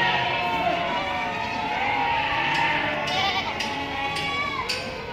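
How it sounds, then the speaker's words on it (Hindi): Goats bleat at the busy Deonar livestock market in Mumbai, where animals from Surat and Kota crowd the pens; overlapping calls rise and fall steadily over a dense, continuous background murmur. "सूरत के काफ़ी सारे बकरे बकरी आपको देखने मिलेंगे।"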